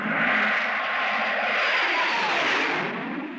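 A Spectrum helicopter from the 1967 Captain Scarlet and the Mysterons series passes overhead above a motorcade, giving a steady, loud broadband engine roar that holds evenly and eases off slightly at the end.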